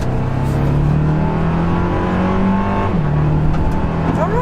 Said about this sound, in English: A little acceleration here.